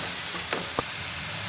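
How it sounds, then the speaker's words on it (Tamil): Spices, turmeric, garam masala and ginger garlic paste sautéing in a pan for peas pasta, a steady soft sizzle with a couple of brief stirring scrapes, close and alone. "நல்லா வதக்கிக்கோங்க."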